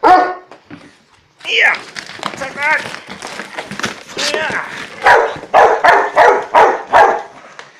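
Dog barking in short bursts during rough play outdoors, a string of loud close barks near the end with excited talk from a person throughout.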